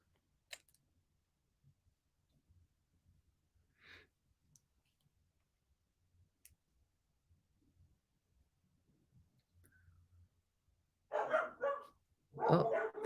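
Dogs bark in two loud bursts near the end, close by, after a long stretch of near silence with only faint scattered clicks and soft movement.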